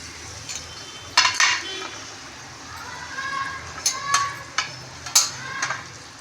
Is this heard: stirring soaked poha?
yes